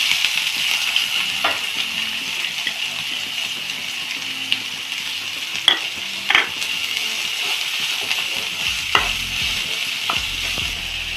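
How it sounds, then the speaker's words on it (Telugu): Onion and cumin frying in a pan, a steady moderate sizzle broken by occasional spoon taps and scrapes as the mixture is stirred. "ఇప్పుడు ఆనియన్ కూడా వేసి వేయించుకుంటున్నాను."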